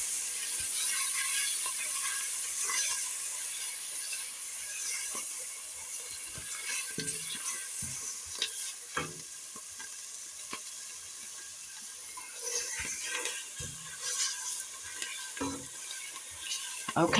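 Peppers, onions and garlic sizzle and crackle in a gumbo pot, a steady hiss with scattered pops and stirring clicks, close and continuous throughout with no talking.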